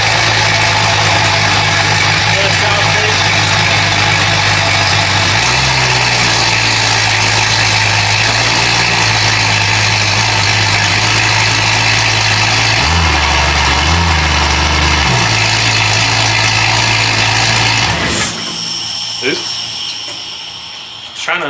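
A rebuilt car engine, built up from a bare block with the cheapest parts, runs at a steady close idle for about eighteen seconds, its rpm shifting a few times as the idle hunts, then cuts off, leaving only faint background noise.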